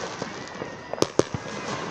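Fireworks going off near a university football pitch during a Salford versus Liverpool Hope match, a few sharp cracking pops over a steady outdoor background murmur.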